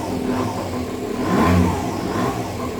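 Aprilia SR50 Factory Ditech scooter engine revving after 15 years unused: a close, continuous buzzing two-stroke drone that swells briefly in the middle and settles again, loud and steady with no voices.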